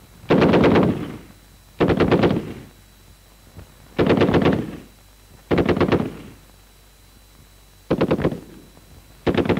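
Rifles and a machine gun fire on a military range in six sharp, loud bursts of rapid shots, each a second or so long, separated by short pauses with faint background hum.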